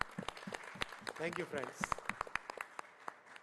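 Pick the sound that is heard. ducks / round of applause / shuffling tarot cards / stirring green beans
round of applause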